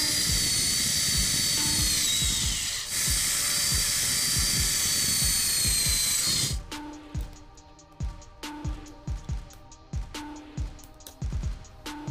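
Power drill boring slowly through an RC car chassis, a loud high whine with rhythmic grinding pulses for about six seconds, then the motor stops and repeated short knocks and clicks follow, close up with no speech.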